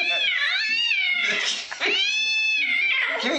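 A cat meows loudly and insistently in long, drawn-out wails, close by, with a brief pause midway.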